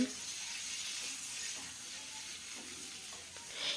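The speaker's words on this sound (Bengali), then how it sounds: "এখানে দেখুন ডাটা আর আলুটা খুব ভালো করে ভেজে নিয়েছি" Sajne data drumsticks and potato pieces frying in oil, a soft, continuous sizzle heard close but fairly quiet, with faint stirring clinks and a brief brighter hiss near the end.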